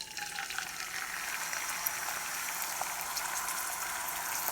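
Liquid poured into a hot pan of melted butter for pork fried rice, giving a steady, faint sizzle and hiss close by with no talk.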